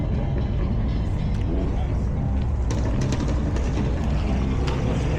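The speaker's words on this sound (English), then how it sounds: "still more cars rolling in and whatnot." Cars arrive at a dealership car show, producing a continuous loud rumble of engines and road noise with scattered sharper clicks and knocks throughout, nearby and steady.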